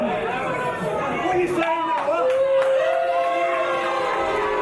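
A professional wrestling crowd reacts loudly in a large hall in Snodland during a six-man tag match, a dense wash of jeers, shouts and chatter with rising voices, fairly close and continuous.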